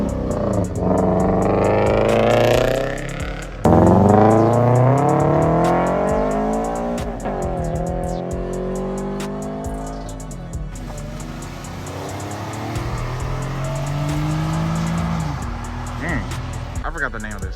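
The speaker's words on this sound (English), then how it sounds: "FRS, BRZ, TRD, GT86 joint. That's stock exhaust, bro." A Toyota GT86 / Subaru BRZ on its stock exhaust revs hard while leaving a car meet, the engine note climbing and dropping repeatedly, loud and close throughout, with voices underneath.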